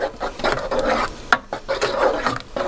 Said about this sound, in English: Whisk, whisk, whisk. We like to do this while it's hot.